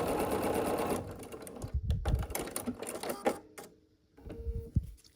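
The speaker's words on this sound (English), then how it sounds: "we're going to sew the white pieces on either side of the stem" Sewing machine stitching white cotton pieces for a quilted autumn table runner, a fast steady whir in several bursts with short pauses between, close and moderately loud.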